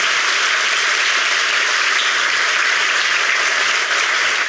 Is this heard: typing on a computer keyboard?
no